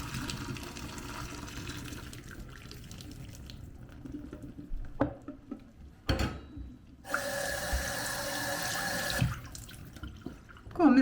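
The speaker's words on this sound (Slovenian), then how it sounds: "No, če zdaj odlijem vodo." Water poured off cooked pasta into a sink, a steady running gush that swells louder in bursts, with some clatter of a pot and strainer and faint background noise.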